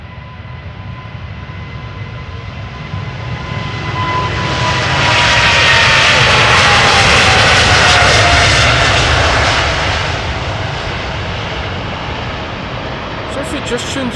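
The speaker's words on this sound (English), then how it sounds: "Spooling up in the distance, going to Calgary, KLM flight 677, Boeing 777-200 ER" KLM Boeing 777-200ER jet engines spooling up for takeoff at Amsterdam Schiphol's Polderbaan, a loud steady roar swelling from a distant rumble to a peak and then slowly easing back.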